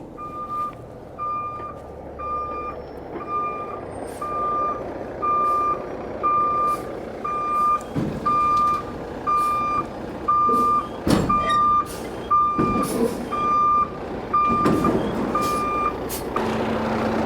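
A heavy tow truck reverses toward a broken-down bus, its backup alarm beeping in a steady evenly spaced series over a rumbling engine, with bursts of air-brake hiss and clanks toward the end.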